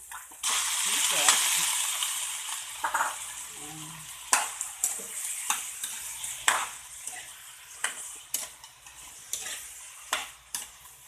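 Chicken sizzling in a hot pan while being stirred, a bright frying hiss with repeated scraping and tapping of a utensil against the pan at an irregular rhythm.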